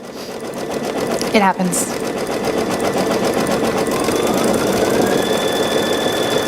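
A sewing machine stitching loop fringe, a loud, continuous rapid mechanical whir with rhythmic knocking, briefly interrupted by a squeak; someone speaks over it briefly.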